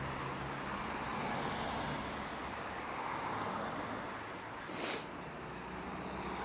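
Road traffic rumbles steadily at a junction with traffic lights, a broad continuous roar of passing cars with one brief louder hiss of a vehicle going by near the end, no speech.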